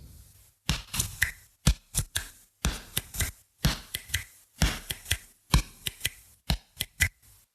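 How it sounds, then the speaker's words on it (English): Rhythmic bursts of sharp slaps and thuds in quick clusters during a jump rope double-under drill, feet landing then hands smacking thighs twice, repeated steadily and close up. "you'll hear your feet hit the ground and smack and rebound"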